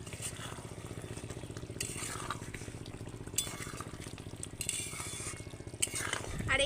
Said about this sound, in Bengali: এবার আমি আরও একবার নেড়ে দেবো